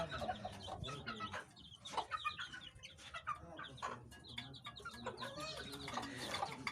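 Young chicks of mixed Silver Sebright, Aseel and Desi breeds on a Punjab farm keep up busy, overlapping high cheeps and peeps. Soft clucks and low farmyard background noise sit beneath them.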